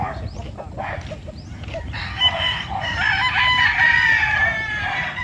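A gamecock rooster crows loudly and close by in one drawn-out call, after softer clucking from farm fowl.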